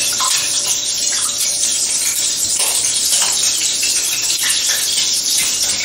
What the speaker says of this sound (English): You can hear that crackling because we had the water in there, right?